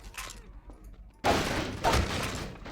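Gunfire from a weapon in the Half-Life 2 mod Prison Life, with two sharp, loud bursts of shots about half a second apart over faint background game sound.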